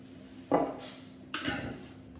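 Vegetable peelings tossed with olive oil in a dish, giving two soft scraping, clinking stirs of utensil against the dish, quiet and close with no talking.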